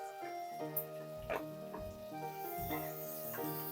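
Finely chopped onion sizzling in hot oil in a pan for palak paneer, steady frying hiss with a few stirring knocks against the pan.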